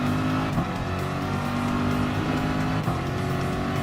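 Volkswagen Beetle race car lapping the Nurburgring in Gran Turismo Sport, with a loud, steady engine drone and tire noise running continuously, other cars audible in the mix, and no talk.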